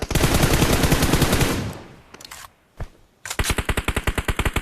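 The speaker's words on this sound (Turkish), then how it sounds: "Burak abiye sıkıyor" Loud video game machine-gun fire during an esports scrim: a dense sustained burst, a short lull with scattered shots, then another rapid rhythmic burst of evenly spaced rounds.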